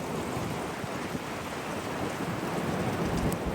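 Steady, heavy rain pours down in a continuous broadband rush during a windstorm in the UK, with wind blowing through it; no voices.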